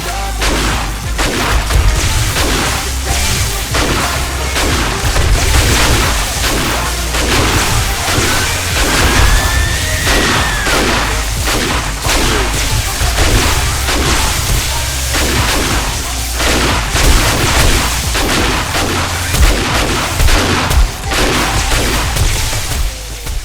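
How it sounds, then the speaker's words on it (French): Rapid gunfire and explosions in the zombie survival video game 7 Days to Die, dense loud relentless volleys of shots and booms filling the whole stretch without pause. "C'était feu à volonté."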